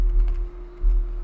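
A few quick keystrokes on a computer keyboard, soft close clicks in a brief cluster followed by one or two more taps, with no talking.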